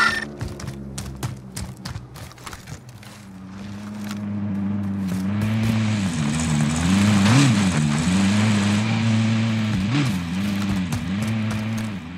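A hostile vehicle engine in Call of Duty Modern Warfare starts amid clattering taps, then settles into a loud, steady rumble that rises and falls in pitch as it revs, continuing without voices.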